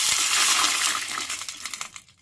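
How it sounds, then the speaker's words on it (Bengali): Water poured into a hot curry leaf and chilli tempering for dhokla, giving a loud burst of hissing sizzle at the start that steadily fades and thins out over about two seconds. "এবার দিয়ে দিচ্ছি জল"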